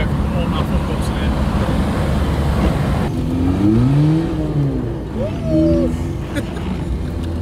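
A car engine revs up and down a few times at a classic car show at the NEC, over steady background traffic rumble, with no one speaking.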